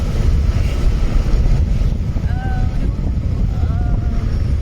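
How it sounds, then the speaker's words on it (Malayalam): Strong wind beside a bypass road roaring and buffeting close to the microphone, a loud continuous low rumble with faint whistling tones. "സോ ഭയങ്കര കാറ്റുമായിരിക്കും."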